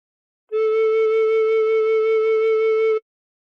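One long, steady recorder note fingered with holes 1 and 2 covered, held for about two and a half seconds, close and alone with no talking.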